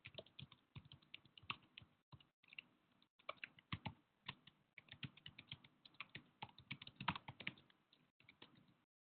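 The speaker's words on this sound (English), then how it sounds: "I'm just typing some responses." Rapid, irregular typing on a computer keyboard, with close, crisp keystroke clicks in bursts and short pauses, heard alone with no talking.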